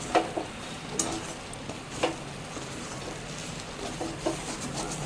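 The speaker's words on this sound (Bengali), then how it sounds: "ভালো করে মিক্স করে পাশে সরিয়ে রাখছি" Utensil scraping and stirring chowmein noodles mixed with pepper and chaat masala in a bowl, with sharp clinks at irregular intervals over a soft, steady background hiss.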